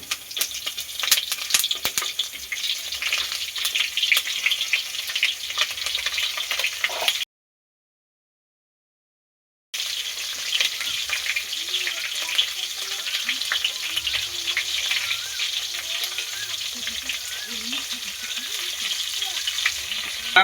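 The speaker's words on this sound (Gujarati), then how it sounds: "આપણા મરચાં એક બાજુ તળાઈ ગયા છે" Stuffed green chillies fry in hot oil with a dense, continuous crackling sizzle, broken by a short silent gap midway before the frying resumes, steady and close with no talking.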